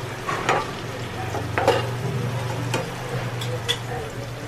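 Surmai fish frying in oil Kokani Koli style, a steady close sizzle with stirring clinks and scrapes throughout.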